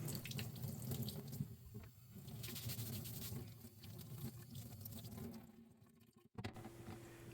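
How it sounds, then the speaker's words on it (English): Tap water runs steadily while mineral deposits are scrubbed off a furnace condensate water trap cartridge, a continuous sink splash that cuts out briefly before resuming, with no voices. "Go ahead and scrub off any mineral deposits on the top."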